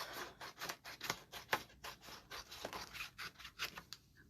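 Scissors cut through fabric in a steady run of crisp snips and rustling slices, quiet and close, with no talking.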